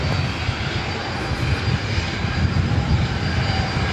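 A SkyWest E175 regional jet approaches runway 24 right at Los Angeles, its engine whine and rumble steady and fairly close, with no talking.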